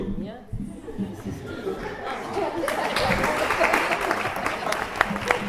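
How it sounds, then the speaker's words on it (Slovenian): An audience at a business lecture breaks into applause that builds to steady, dense clapping, with chuckles and chatter mixed in and a voice talking over it. "Čakaj, ne še ploska do konca"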